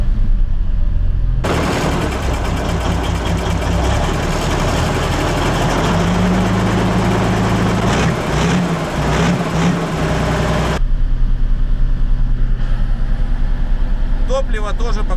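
A missile carrier vehicle's heavy engine rumbles loudly while idling and warming up, with a dense mechanical clatter that swells and then drops back to a lower idle, as a person talks over it.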